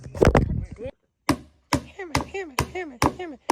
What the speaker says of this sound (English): Hammer.